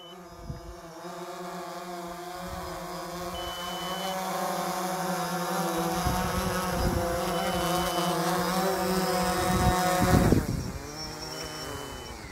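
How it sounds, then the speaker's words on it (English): A camera drone used for aerial photography over a commercial lot flies back toward the pilot, giving a steady high whining buzz of spinning rotors that grows louder and shifts pitch near the end as it comes in close. "So I'm gonna bring the drone back."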